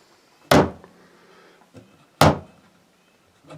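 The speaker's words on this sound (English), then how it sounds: "So now for the big test, we'll close the door." A wooden cubby door on a bike shed, fitted with a soft PL Premium bead, is closed twice, giving two firm, close thuds about two seconds apart, each followed by a faint rattle.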